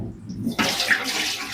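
Tap water runs steadily into a sink while rice is washed, starting as a soft trickle and then surging into a louder, close, continuous splashing stream.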